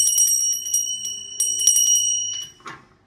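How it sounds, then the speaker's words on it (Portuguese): A small hand bell ringing with sustained bright overlapping tones and repeated strikes, then fading out into a brief handling knock. "Cadê meu sino? Tá aqui."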